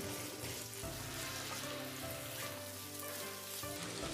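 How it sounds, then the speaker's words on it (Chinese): Steady, dense sizzle of celery, shredded pork and red pepper strips being stir-fried in a hot wok, with stirring scrapes and a few clanks, continuous and close with no talking. "快速的翻炒均匀"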